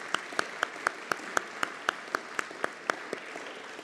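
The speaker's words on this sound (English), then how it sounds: "So please, clap Floriana." Applause for a graduate at an Executive MBA graduation ceremony in Trieste, with a steady run of sharp, evenly spaced claps standing out over a softer bed of crowd clapping, moderately faint and without talk.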